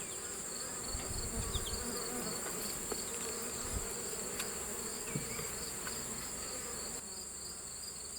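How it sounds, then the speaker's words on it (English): Honey bees buzz around an open hive in a dense, continuous, close humming drone, with individual bees flitting past now and then and no talking. "these bees are incredibly docile"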